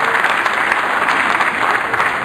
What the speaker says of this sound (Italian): salutiamo con un altro grande applauso